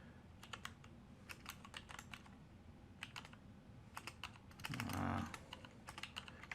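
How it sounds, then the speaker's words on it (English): Quick, uneven keystrokes on a computer keyboard while writing C++ code, faint, close clicks in short runs over a low background hum. "As you can see how I type, I'm error prone."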